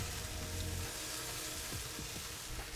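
Pork belly sizzles and fries on a Pit Barrel Cooker as a piece is flipped, a steady close crackle with a few brief scraping movements and no talk.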